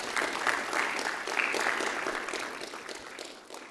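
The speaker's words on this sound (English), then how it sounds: "Let's give Mike a round of applause." Audience at an annual peace lecture clapping in a steady round of applause, moderately distant and fading slightly toward the end, with no speech over it.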